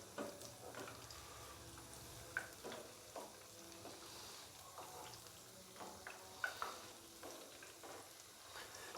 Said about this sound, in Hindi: मीडियम से लो फ्लेम पे हमने पकौड़ों को फ्राई करना है